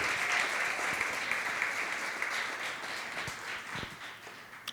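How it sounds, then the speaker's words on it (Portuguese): Worshippers in a church applauding during a sermon, a sustained broad patter of clapping that gradually thins toward the end, with a few sharper individual claps standing out. "Você pode aplaudir o Senhor?"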